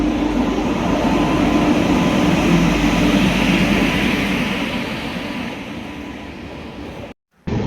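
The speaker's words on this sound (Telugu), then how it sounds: "ఆఫ్టర్ 2 అవర్స్ వెయిటింగ్ తర్వాత మన ట్రైన్ అయితే వచ్చేసింది" Passenger train rolls into a station, a loud, dense rumble of wheels and carriages that slowly eases in level before a brief cut near the end.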